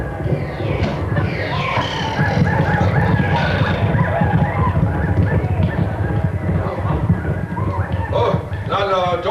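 Hoofbeat and horse sound effects during a live Old West saloon show on an old sound stage, a steady clattering din with whinnies and honking calls, mixed under a performer's talk and crowd noise.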